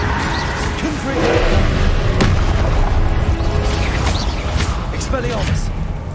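Confringo spell blasts in the video game Hogwarts Legacy: booming, crackling magical explosions burst repeatedly over a dense, continuous battle din, with a few sharp transients standing out.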